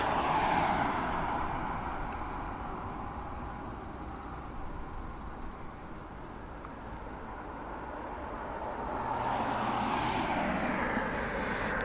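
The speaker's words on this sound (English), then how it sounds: "You would think a plane of that size would make more sound than that." A large jet airplane at Incheon International Airport, Seoul, passes with a steady engine roar that swells, eases in the middle, then rises again as it draws near.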